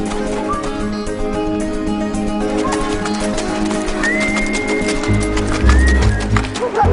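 Horses move on a farmstead in Central Asia as riders saddle up, with hoof clops, snorts and a short whinny over rural background ambience, and birds faintly calling.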